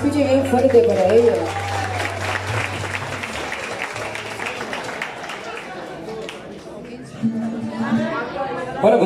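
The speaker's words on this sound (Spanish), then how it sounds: "Y el aplauso que se escuche bien fuerte para ella" An audience at a fifteenth birthday celebration with a mariachi band claps in sustained applause for the birthday girl. Chatter and voices run through the clapping, which dips briefly before swelling again near the end.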